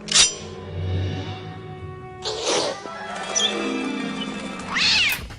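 A cat meows several times, loud and close, with drawn-out cries separated by short pauses.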